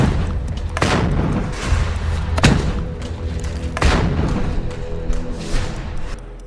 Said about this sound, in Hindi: ताबड़तोड़ चलती ये गोलियां